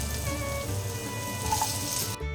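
Potatoes drop into hot oil with fried bay leaf, dried red chilli and black cumin, giving a steady, close sizzle and crackle that runs continuously before cutting off abruptly.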